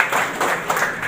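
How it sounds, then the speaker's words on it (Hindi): A short burst of audience clapping at a diagnostic centre inauguration in Mustafabad, close and moderately loud, pulsing unevenly for about a second. "तो बहुत जोरदार तालियां एक बार आप इसके लिए बजाएं।"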